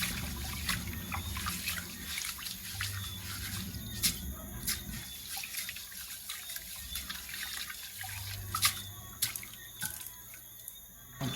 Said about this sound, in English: wash rice, you wash it like how you wash clothes, you know?